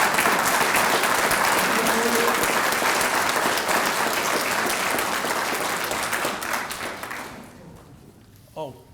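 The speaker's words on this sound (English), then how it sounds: "Can we have one more round of applause" Applause for award winners at a recruit firefighter training academy ceremony at Nash Community College: dense, sustained crowd clapping that holds steady, then tapers off and fades out over the last couple of seconds.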